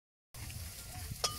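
Eggplant slices frying in a pan at an outdoor campsite picnic, a quiet, steady sizzle that starts abruptly after a brief silence, with a light clink near the end.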